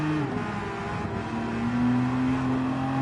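Aston Martin GT3 race car engine in a racing video game, a steady loud drone with rising pitch as it pulls hard out of a corner, continuous and close with no talk.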